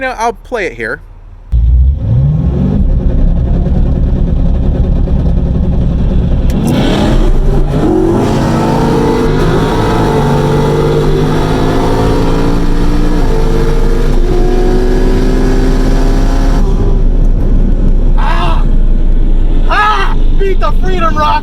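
Twin-turbo C7 Corvette drag racing against the Freedom Rocket at the track: a loud engine climbs hard through the gears with a rising roar and shift breaks, after a brief voice at the start and crowd or commentary noise near the end.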